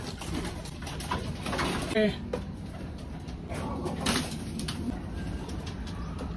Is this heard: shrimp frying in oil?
no